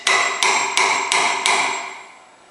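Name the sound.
hammering a nail into soft wood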